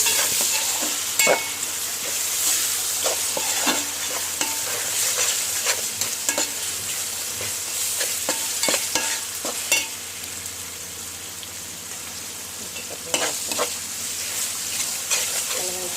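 Fried onions with a spoonful of ginger garlic paste sizzle in a pan while a spoon stirs and scrapes in irregular clicks and swishes, close and steady with a bright hiss, no voices.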